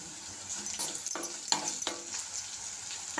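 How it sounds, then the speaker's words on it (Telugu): Sliced onions and long-cut green chillies frying in a pan, a soft sizzle broken by a few sharp clinks and scraping stirs, close and fairly quiet, with no speech. "ఈ ఉల్లిపాయలు అయితే ఫ్రై చేస్తానండి"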